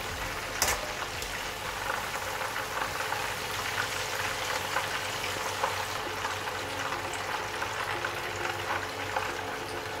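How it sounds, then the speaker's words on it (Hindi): Chicken pieces frying in hot oil for chicken chilli fry give off a steady, even sizzle and crackle throughout, close by and with no talk. "तो चिकन तकरीबन हमारा फ्राई हो चुका है"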